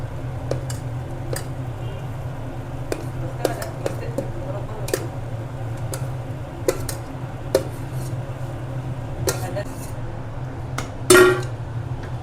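A metal spoon clinks and scrapes intermittently against a large kadhai while stirring food, sharp irregular taps over a low steady hum, with one louder clatter near the end.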